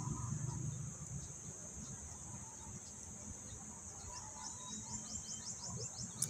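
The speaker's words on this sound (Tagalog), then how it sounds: "May ibon." Birds chirp and twitter in the trees of a university campus in Diliman. The calls are faint and high, with a quick series of chirps near the end, over steady insect buzz and low rumbling movement nearby.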